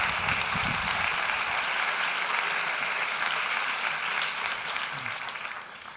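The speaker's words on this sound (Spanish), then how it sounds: "Un fuerte aplauso para Zoraida." Steady, dense applause from a seminar audience at Valladolid's university science park, welcoming pharmacogenetics speaker Zoraida Verde; it holds for the whole stretch and eases off slightly at the end.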